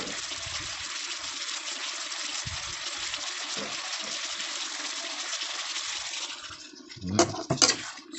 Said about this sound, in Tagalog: So lagay tayo ulit ng tubig mga guys.